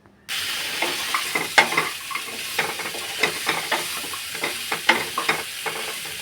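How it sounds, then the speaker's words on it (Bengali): Drumsticks and ridge gourd being stirred into fried spices in a pan for Bengali dudh shukto, with continuous sizzling and repeated scraping stirs of a spoon against the pan, close and clear. "এবারে দেব ডাঁটা আর ঝিঙে, ওই মশলার মধ্যে দিয়ে একটু নাড়াচাড়া করে নেব।"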